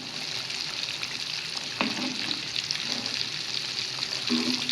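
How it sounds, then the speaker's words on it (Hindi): Fish pieces fry in hot oil with a steady bubbling sizzle, close and fairly loud, broken by a few brief clinks of a utensil and no talking. "अपनी फ़िश को फ्राई करते हैं। तरीके से फिश के पीसेस हम डालेंगे ऑयल में।"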